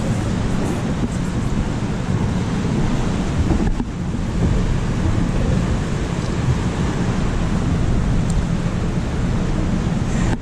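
Atlantic Ocean water rushes steadily around a tour boat off Benagil, Portugal, mixed with constant wind buffeting the microphone and an engine-like low rumble, with no clear voices.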